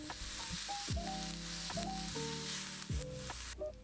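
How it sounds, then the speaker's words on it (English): Beef browning in a pan, stirred as it cooks for a gyudon rice bowl: a soft, steady sizzle broken by a few scraping stirs, fairly quiet and close. "Spread the beef out and stir it around to brown the beef."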